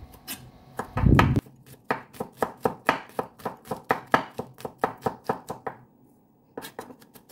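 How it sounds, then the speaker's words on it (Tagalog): Garlic is chopped with a knife on a board in a fast, even series of close crisp thuds, preceded by a short rough scrape, then a pause and a few last chops. "next natin hiwain yung ating garlic."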